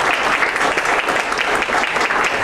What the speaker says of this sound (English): I reckon she deserves a round of applause as well